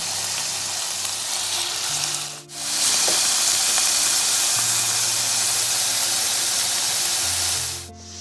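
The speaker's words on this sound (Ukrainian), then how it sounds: "Поки наше філе обсмажується" Fillet sizzling and frying in a hot pan, a steady broadband hiss that runs loud and continuous with two brief dips, no voices present.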